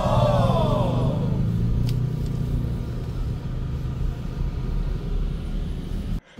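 Busy road traffic in Indonesia near Uluwatu, Bali: a steady rumble of cars and motorbikes passing close by, with a vehicle sweeping past early on and continuous engine noise throughout, no voices.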